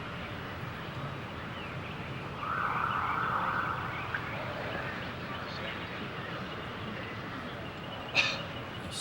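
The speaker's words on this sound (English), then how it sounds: "A siren went off in the background." Out on a golf course during the final round of the 2005 Masters Tournament, a siren wails faintly in the distance, rising briefly under the broadcast's quiet background murmur.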